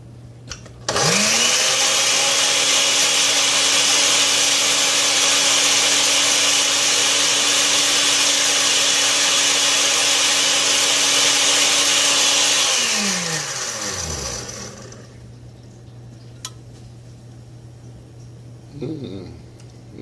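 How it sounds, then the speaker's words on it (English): A blender whirs loudly as it blends a vanilla mixture for a homemade juniper gin or wine, running steady for about twelve seconds before spinning down and stopping. "And I'll put the lid on the blender. And we're going to blend."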